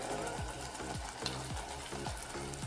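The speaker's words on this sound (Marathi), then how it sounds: "आता हा आपण जे बॉईल केलेला आहे तो वाटाणा टाकतो" Boiled green peas go into sizzling masala in a pan for matar usal. A steady, close frying hiss runs throughout, with regular thumps from stirring and no voices.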